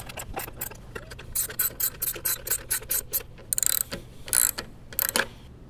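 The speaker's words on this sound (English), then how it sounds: "And tighten the bolts and nuts." A hand ratchet tightens bolts and nuts on a Subaru/Robin engine fitted to a Coleman Powermate 5kW generator, giving quick bursts of sharp clicking strokes in an irregular rhythm, close and clear, with no talking.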